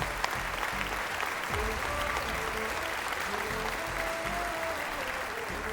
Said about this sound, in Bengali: একবার জোরে হাততালি হয়ে যাক ওদের জন্য।